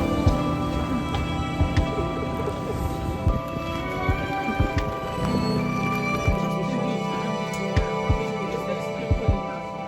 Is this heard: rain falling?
yes